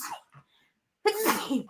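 A single sharp sneeze bursts out after a brief murmur and a moment of silence, close and loud, during a casual indoor conversation among several people.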